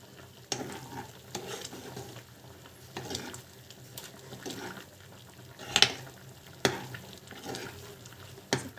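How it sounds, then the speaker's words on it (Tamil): Mushroom gravy bubbling and sizzling in a pan, a soft continuous simmer with occasional louder clicks and stirring knocks, close and with no talk. "அது சூப்பராக வந்து கொதிக்குது."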